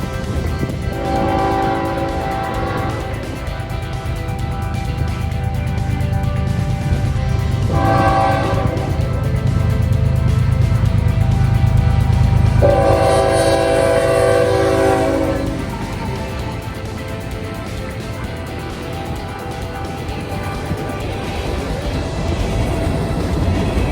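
CN freight train led by a Dash 9 locomotive passes on the Iron Range, loud horn blasts sounding in several bursts over a steady rumble of rolling cars that fades slightly toward the end.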